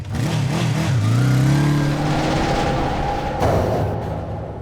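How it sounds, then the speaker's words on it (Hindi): A motorbike with two riders pulls away, its engine revving loudly and close by, then settling into a steady drone as it rides off. "बॉस, वो दोनों अभी भी बाइक पे निकल गए।"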